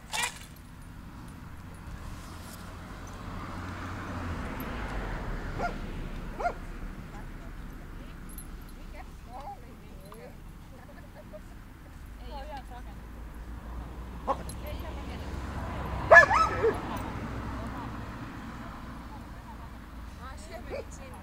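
A dog barks in short bursts and whimpers now and then outdoors, the sounds moderately close and mixed with people talking and a faint jingle of keys.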